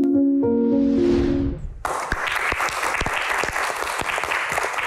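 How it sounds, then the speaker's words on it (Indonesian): After a sustained musical chord fades, an audience at a televised Q&A show bursts into loud, close, dense applause that continues steadily to the end. "Lebih meriah lagi kita berikan tepuk tangan"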